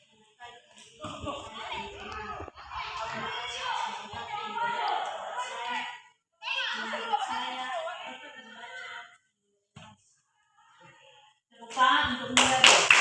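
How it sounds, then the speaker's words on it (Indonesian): A classroom of children claps for a classmate in bursts, loud and close, with short pauses between rounds and a final sharp flurry at the end. "Tepuk untuk Mira."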